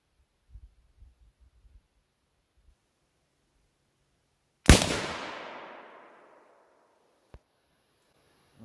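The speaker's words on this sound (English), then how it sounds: "First shot is with the 175 grain LRX, just a hunting bullet." .300 Winchester Magnum rifle firing a single 175-grain hunting bullet at body armor: one sharp, loud blast with a long decaying echo, preceded by faint handling clicks and followed by a small distant tick.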